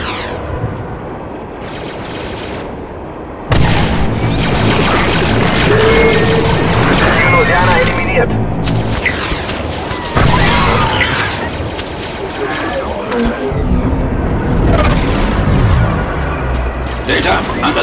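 A ship crash-lands in the Star Wars Republic Commando video game, setting off loud, sustained booms, crashes and rumbling blasts, with gunfire-like bursts and voices talking over the din.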